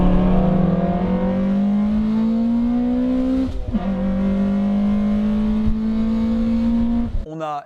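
A Mazda MX-5 NC roadster with a tuned engine pulls hard, its note rising steadily through one gear, dropping briefly at a shift, then climbing again. It sounds loud and close, and a brief clatter follows at the end.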